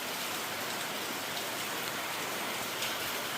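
Steady rain falls on a village, a dense, even hiss of drops on surfaces, continuous and moderately loud, with no voices.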